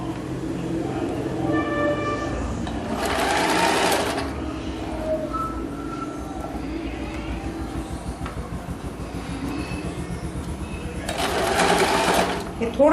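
Sewing machine stitching a lehenga dress for a deity figure, running in two loud bursts of steady whirring with quieter stretches between, while someone talks over it.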